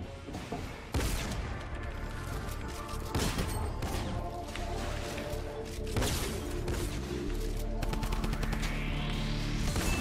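Rapid gunfire from a weapon in the video game Fortnite, with repeated sharp shots and bursts over dense game music and effects, fairly loud and close throughout.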